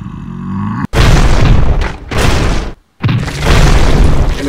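A thrown grenade explodes in a series of loud, close booms, three heavy blasts separated by brief silent gaps, each with a rough rumbling tail.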